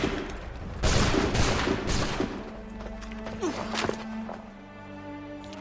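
A musket volley rings out in Assassin's Creed 3, a burst of loud, close shots followed by fading crackle and a low sustained tone, with a brief voice at the start.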